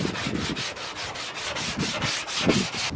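Bondo body filler on a car panel being sanded with 180 grit sandpaper, a steady rhythmic back-and-forth scratchy rubbing in even close strokes, with no talking.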